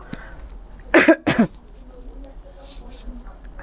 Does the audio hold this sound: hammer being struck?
no